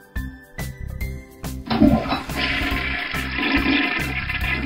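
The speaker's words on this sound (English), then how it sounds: "Then we have to flush the potty." A toy potty flushes with a recorded electronic flush effect, first a few short tones, then a sustained rushing water sound that carries on steadily to the end, fairly close and moderately loud.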